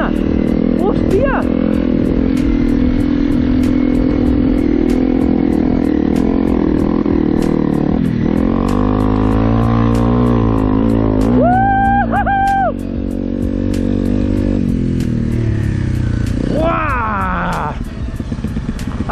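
Off-road motorcycle riding across soft sand dunes in Fuerteventura, its engine droning steadily close by, with revving swells and wind throughout, while a rider talks over it.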